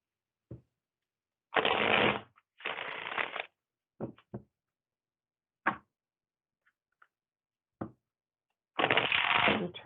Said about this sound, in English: so I'll shuffle again here really quick.